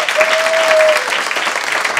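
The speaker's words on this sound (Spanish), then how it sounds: "Só quem crê dá um forte aplauso ao Senhor." A church congregation breaks into strong applause, a thick, loud burst of many hands clapping, with a brief sustained tone sounding over it early on.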